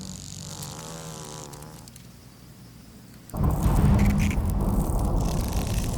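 Giant hornets attacking honeybees produce a dense insect buzz and droning hum, moderate at first, then swelling abruptly into a louder, fuller roar of wings that continues to the end.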